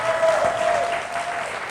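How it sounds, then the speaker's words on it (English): A studio audience on a Manchester TV show gives a round of applause, a brief, loud burst of clapping with a faint tonal hum running underneath. "A big round of applause to this man,"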